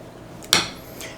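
A utensil clanks once against a dish while mayonnaise sauce is being mixed, a single sharp close knock followed by a faint scrape, otherwise quiet.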